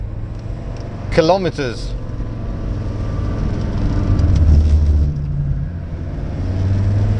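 An Audi 100 C3 Avant with a non-turbo diesel engine accelerates on a road, its steady engine drone and road rumble building and swelling under a voice speaking over the cabin noise.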